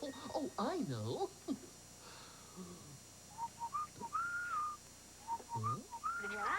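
A person whistles a bright, melodic tune in several short phrases, clear and close, following a stretch of animated voices in a children's television show.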